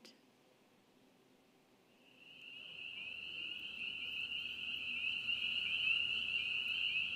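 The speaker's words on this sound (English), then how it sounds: "Peepers, these tiny frogs that would hatch in the swamp behind our house." A dense chorus of spring peeper frogs from a swamp behind a house rises out of near silence into a steady, high, shrill peeping that grows louder and continues without pause.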